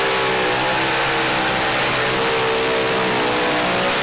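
A super stock diesel 4WD pulling truck at a pro pulling event roars at full throttle, a loud, dense, unbroken engine blast holding steady for the whole stretch.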